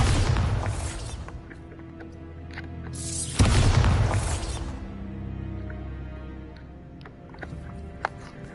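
Bombarda spell explosion in a game, two loud booming blasts with a rushing whoosh, each decaying into a rumbling tail, the second hit stronger.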